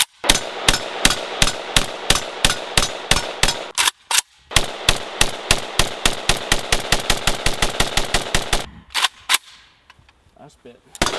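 A VSKA rifle fires the final 100 rounds of an endurance test, with loud, close, evenly spaced single shots in a steady rapid rhythm and a brief pause partway through, tapering into a few last shots.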